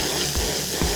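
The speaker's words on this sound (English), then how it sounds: "I'm gonna hose it off and see how it looks." Garden hose water spraying steadily onto a car floor mat on a patio, a dense continuous hiss and splatter close by with no pauses.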